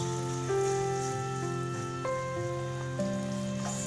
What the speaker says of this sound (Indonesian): Bakwannya mau Mama goreng ya,